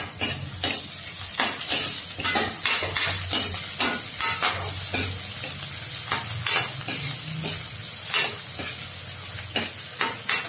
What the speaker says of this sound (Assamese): আদা নহৰুখিনি তেলতে দি দিছোঁ